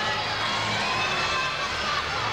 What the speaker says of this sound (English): You can hear a buzz in the crowd